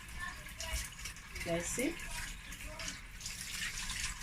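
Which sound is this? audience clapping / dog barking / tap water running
tap water running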